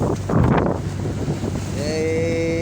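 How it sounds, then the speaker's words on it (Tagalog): Strong typhoon wind buffets a boat heading out to sea from Zamboanga City, roaring steadily up close, with water rushing and a thin whistling tone rising near the end. "Sinalubong na naman tayo ng bagyong Inding"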